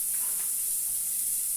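Garlic and onion frying in a pan for a simple home lunch, giving a steady, quiet sizzle and hiss that runs unbroken through the short stretch with no talking.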